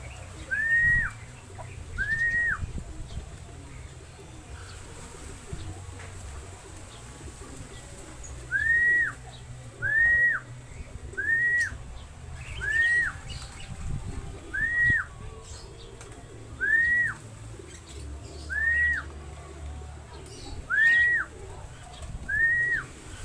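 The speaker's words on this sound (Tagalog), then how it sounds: "Pang-apat na ibon natin mga kalapatids." Racing pigeons arriving at a loft during a first-lap derby, with a recurring short whistling bird call repeated roughly ten times at irregular intervals over a steady outdoor background hum.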